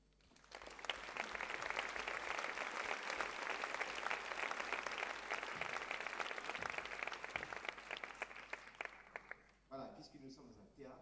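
A theatre audience at a morning talk with four guests breaks into sustained, full applause that holds for several seconds, then stops abruptly as a voice begins speaking.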